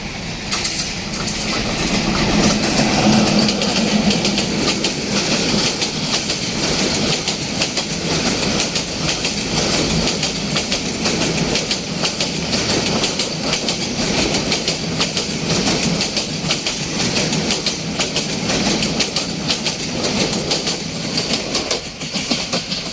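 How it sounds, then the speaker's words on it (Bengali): A train rumbles past close by through Bawal station without stopping, its wheels clattering in a rapid, steady clickety-clack rhythm that carries on throughout. "চকচকাচর্য করে ট্রেন চলে গেল দেখো"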